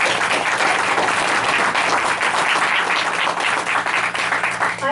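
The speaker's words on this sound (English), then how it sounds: "I think we all need to give him a round of applause." An audience at a Lebanon Valley Rail Trail update meeting bursts into steady, dense applause, loud and continuous throughout, with no voices over it.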